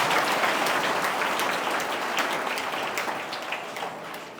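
A crowd at a speech event honoring Karmaveer Bhaurao Patil bursts into dense, rain-like applause that holds strong, then gradually thins and fades over about four seconds.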